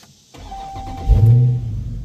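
A 2023 Dodge Charger Hellcat engine surges from a quiet start into a loud, close roar during a 0 to 60 acceleration run, rising sharply after a brief lull and then holding strong.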